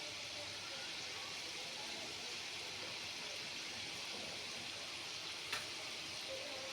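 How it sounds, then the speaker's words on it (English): Batches of saloni, a crisp fried snack, cooking in hot oil, giving a steady, soft hiss that runs evenly throughout with one brief crackle near the end. "Likewise with batches I will fry it and take it out."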